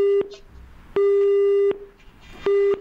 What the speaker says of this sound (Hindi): बुधिराम जी आपका फोन डिस्कनेक्ट हो गया है